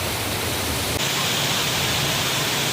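Langvoku waterfall in Karbi Anglong pours as a dense, steady roar of rushing water, loud and close, with no break in the noise.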